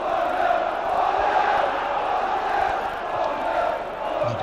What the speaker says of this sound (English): just listen to the Barnsley fans cheering the side on